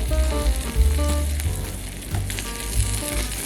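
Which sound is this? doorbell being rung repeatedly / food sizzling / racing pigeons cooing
food sizzling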